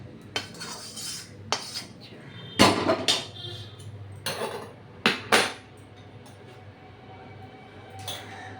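Sattu laddu mixture being scraped out of a metal pan onto a metal plate, with a few sharp metallic clinks and scrapes in irregular bursts, close and fairly loud, between quieter stretches of low background hum.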